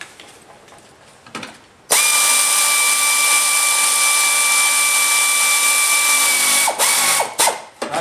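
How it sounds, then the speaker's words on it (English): A socket wrench turns bolts on a Sta-Rite heater, making one loud, continuous mechanical whirring close by for about five seconds. A few short clicks come just before and after it. "let's put in our bolts. This just works best straight socket on a."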